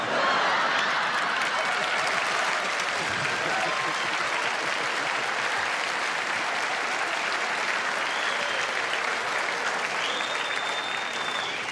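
Television studio audience at a talk show anniversary special breaks into sustained, loud, continuous applause lasting over ten seconds.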